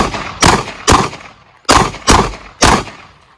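Five loud, sharp gunshots ring out at close range during shooting training, fired in an irregular sequence with short reverberating tails between them and no talking.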